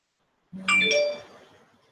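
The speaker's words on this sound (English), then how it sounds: "More hurricane notifications, you guys." A bright electronic alert chime for a hurricane notification, a short multi-tone ding-dong on a phone, rings out clearly and alone, then fades over about a second.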